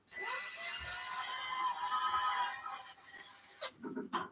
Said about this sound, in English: And now let's drill them out.